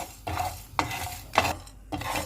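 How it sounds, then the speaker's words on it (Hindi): Whole spices dry roasting in a pan over a low flame, stirred with a spoon in four distinct scraping bursts that rise and fade over a faint background crackle, close by with no talking. "अभी हम साबुत मसालों को ड्राई रोस्ट करेंगे।"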